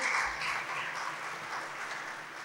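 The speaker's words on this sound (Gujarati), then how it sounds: "આપણે તાળીઓથી વધાવીએ" Scattered applause from an audience, a soft, fairly distant patter of clapping that fades slightly over a couple of seconds.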